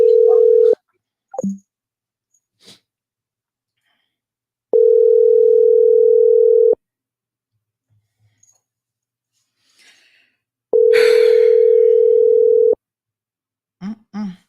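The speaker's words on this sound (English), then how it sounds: "So let's give him a call this morning." Telephone ringback heard while calling someone: long steady tones of about two seconds repeat three times with gaps of near silence, loud and close, broken by a few faint clicks and brief murmurs between rings.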